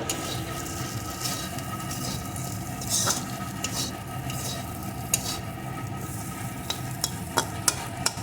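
Spices and cauliflower in a besan (gram flour) curry are stirred in a pan, giving a steady soft sizzle with scraping and clinking from the spoon against the pan, plus a few sharp taps near the end.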